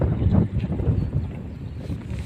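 Wind gusts steadily across the microphone during a walk down a road, a loud, rumbling buffet that carries on with no talking.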